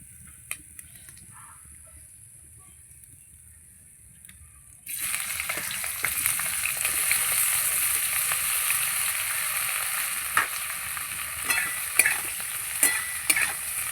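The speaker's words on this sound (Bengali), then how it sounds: "এই কড়ার মধ্যে আমি বেগুনটা ভেজে নেব" Eggplant dropped into hot oil in a wok after fish frying bursts into a loud, steady sizzle that starts suddenly midway, with crackles and occasional stirring scrapes over quiet kitchen background.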